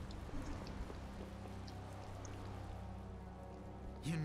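Rain in the video game Tales of Vesperia falls as a steady, soft, even patter with a low background rumble, continuing alone with no speech.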